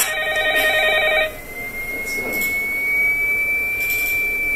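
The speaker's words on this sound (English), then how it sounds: "The point is, the phone could ring at any time." A telephone rings with an electronic trill that repeats in bursts and then breaks off. A thin, steady whistling tone carries on after it.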